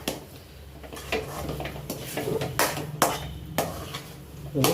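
Metal spoon scraping and knocking in a pan as makkandi halwa cooks in ghee, with irregular close clinks and scrapes at an uneven rhythm and no talking.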